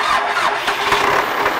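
An MTZ-80 tractor with a 24-volt starter cranks and fires up, a loud, close, churning mechanical engine-start noise throughout.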